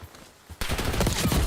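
Gunfire from the Call of Duty video game during a Call of Duty League Minor tournament match: a quiet lead-in, then an abrupt, loud burst of rapid shots that continues to the end.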